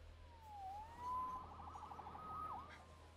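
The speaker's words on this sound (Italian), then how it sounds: "Salvato dalla sirena." A police siren in the video game Marvel's Spider-Man wails in a few faint, distant sweeping tones over a low steady hum, with no talk.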